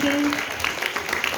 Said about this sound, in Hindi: जोरदार ताली बजा करके अपनी मुक्ता मैडम का धन्यवाद करेंगे और जोर से।